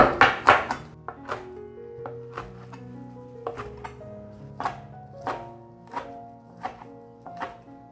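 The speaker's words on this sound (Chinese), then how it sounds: "现在要来切，切细丝。" A knife chops soaked, softened tofu skin into fine shreds on a cutting board, with a string of distinct, fairly close thunks coming at an uneven pace and no talking.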